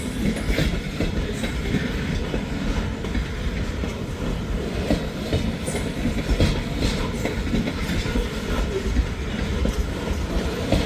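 A freight train led by a GP38 locomotive rolls past in the rain, its wagons rumbling and clacking steadily over the rails, loud and close throughout.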